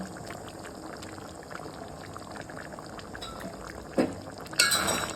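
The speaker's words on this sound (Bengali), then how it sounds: "গরম মশলা দিলাম আর একটু ঘি দিয়ে দিচ্ছি" Ghee poured into a pan of cooked mixed vegetable curry, a low steady simmer giving way to a short glassy clink and a brief bright pouring hiss near the end.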